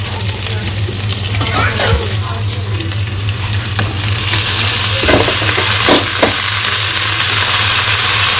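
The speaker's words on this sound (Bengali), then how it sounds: "এখন থোরগুলা দিয়ে দিই।" Chopped banana stem pieces go into a pan of frying onions and green chilies in a village kitchen, raising a loud, continuous sizzle with scraping stirs and a few sharp clacks.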